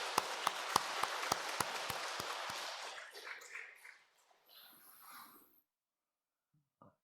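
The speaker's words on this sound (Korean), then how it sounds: "우리 박수로 맞이하도록 하겠습니다" Church congregation clapping in welcome during a Sunday service: a short burst of evenly spaced, crisp claps that quickly thins out and fades into near silence.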